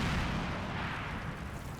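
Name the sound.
explosions in Combat Mission: Battle for Normandy video game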